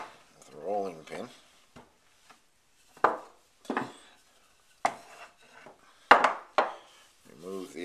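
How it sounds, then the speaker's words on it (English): A rolling pin pressed across the rim of a tart pan trims away excess pastry, giving a few short, dull scraping thuds up close, with a person talking in between. "Then the cutting off is quite easy with a rolling pin."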